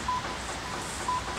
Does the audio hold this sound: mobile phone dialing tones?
yes